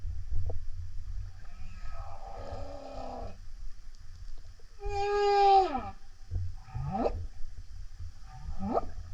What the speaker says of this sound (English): Like she can't see the whales, she just hears them.